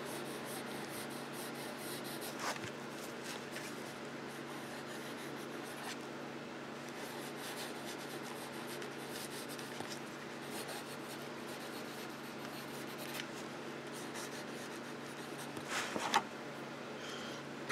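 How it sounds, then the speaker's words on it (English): A vintage Parker pencil scratches softly across paper in a continuous faint rubbing, quiet and close with a low steady background hiss and no speech. "just checking out how this pencil writes"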